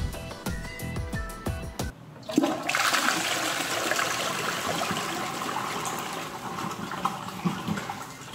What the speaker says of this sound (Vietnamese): Trước tiên mình sẽ nhấn xả tiểu trước. Sau đó là nhấn xả đại.